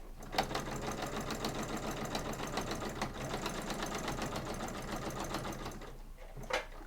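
Sewing machine stitching a cross body bag, a close, rapid, even mechanical chatter running steadily before it stops near the end.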